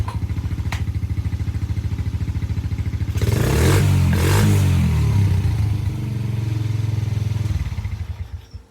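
Honda TRX90 ATV engine running after a top end repair, a loud close idle with steady firing pulses that rises into a couple of revs in the middle, then settles and cuts out at the end.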